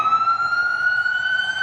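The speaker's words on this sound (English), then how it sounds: "You hear these damn sirens?" Steady wailing emergency vehicle siren, loud and continuous with a sustained high tone, alone without talk.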